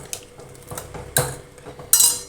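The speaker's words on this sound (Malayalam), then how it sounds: "എന്നിട്ട് അതിന് നല്ലപോലെ ഇളക്കണം." A spoon scrapes and clinks against a pot while kadala curry, chickpeas in a ground spice mixture, is stirred, giving a few close irregular metallic knocks and scrapes.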